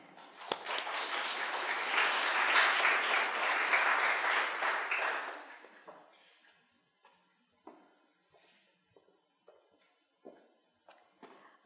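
An audience applauds to welcome a speaker at an art history lecture: a dense, sustained round of clapping for about five seconds that fades out, followed by scattered footsteps and light taps in a quiet room.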